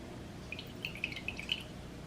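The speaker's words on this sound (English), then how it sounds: "to tip all the water out" Water tipped and dripping out of a seed sprouting jar, a few faint, scattered drips and splashes spread over two seconds against a quiet background.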